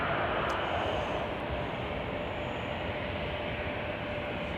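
An American Airlines jet arriving from Liberia rolls in to land at Chicago O'Hare, a steady broadband engine roar with whining tones, loud and sustained without pause.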